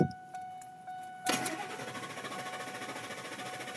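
A 2002 Ford F-150 with old fuel still sitting at the injectors cranks briefly, catches with a sudden burst, then settles into a steady, rhythmically pulsing idle, heard close up without talk.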